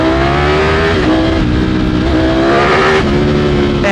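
Ducati Streetfighter V4S motorcycle engine revving hard on the throttle, loud and close, its pitch rising and falling through several throttle blips with a dense mechanical roar.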